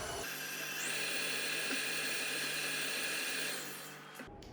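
An electric mixer whirs steadily as caster sugar and brown sugar are beaten with coconut oil for vegan cookie dough, a continuous high motor hum lasting about four seconds before cutting off abruptly.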